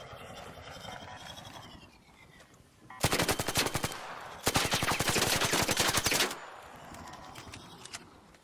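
Video game gunfire rattles in two long, loud automatic bursts with a brief pause between them, standing out over quieter background game noise.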